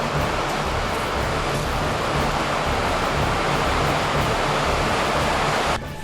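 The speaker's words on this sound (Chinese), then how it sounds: "冰岛的黄金瀑布" Gullfoss waterfall in Iceland roars as a loud, steady broadband rush of falling water, continuous and close, with no voices, cutting off slightly just before the end.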